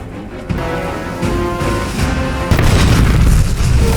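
A heavy explosion in a Frankenstein monster film on an ice field, deep booming blasts with rising swells of dramatic tonal score over a low rumble, growing louder toward the end.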